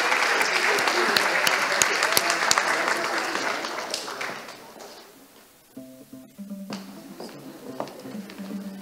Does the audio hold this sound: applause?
yes